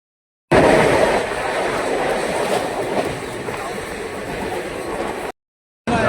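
A train pulls into Dadar station, its rolling, rumbling roar steady and fairly loud before cutting off near the end, with faint voices underneath.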